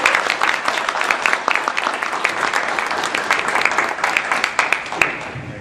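Applause from an audience at an awards event for the winners, with dense, steady clapping continuing the whole time and sharp individual claps standing out close by.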